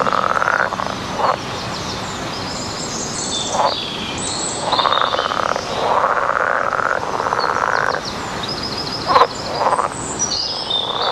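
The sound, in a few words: frogs croaking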